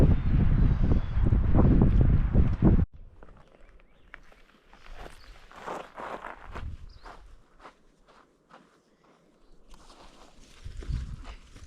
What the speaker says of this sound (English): Very windy this morning.